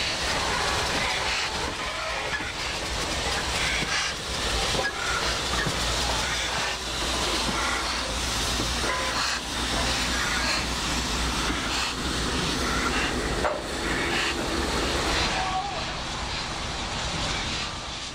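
Loud, steady rumble of the steam locomotive N&W 611 being shoved slowly along track, a broadband mechanical roar continuing throughout with faint clanks.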